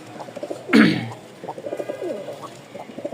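A male pigeon in a home loft gives one loud, close coo, followed by a run of softer, rhythmic cooing from birds nearby.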